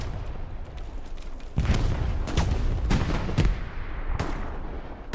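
Bursts of machine gun fire from a mounted MG in the World War II shooter Hell Let Loose on Omaha Beach, loud and close, several rattling volleys and sharp booms over a constant rumble of distant battle.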